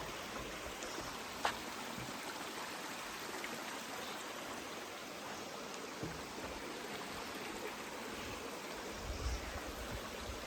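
A mountain stream rushes steadily over rocks at a water crossing on the Appalachian Trail, a constant close broadband wash of flowing water with no breaks.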